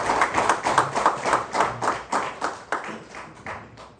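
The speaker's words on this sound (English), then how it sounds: "I'd like you to join me in giving a round of applause to the Olori, as well as to the Oba and the Princess and the Prince." A crowd at a ceremony honoring an Oba claps in a clear, rhythmic unison beat, about four claps per second. It rings out close and then gradually softens and fades over a few seconds.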